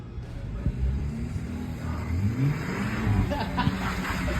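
Turbocharged car revving while doing donuts in snow, heard at a moderate distance with rising and falling engine tone and faint turbo whistle beneath low, muffled voices.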